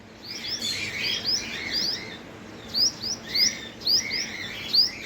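Small birds chirping around a squirrel, sharp high tweets in scattered bursts that grow denser toward the end, fairly close over a quiet outdoor background.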